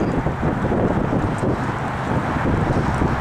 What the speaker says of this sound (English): it's kind of cold and windy out here today